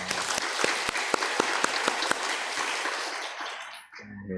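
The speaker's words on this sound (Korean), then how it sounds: "우리의 하나님께 감사와 영광의 박수 올려드리겠습니다." A church congregation claps through a Sunday morning service, a dense and fairly loud burst of applause with a few sharp claps standing out, fading out near the end.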